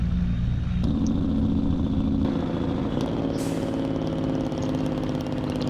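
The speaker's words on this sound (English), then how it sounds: "And those Jake brakes just sound absolutely beautiful." A semi truck's Jake brake in a truck mod for a driving game: a loud, continuous low engine rumble with a buzzing, harmonic drone that holds steady throughout.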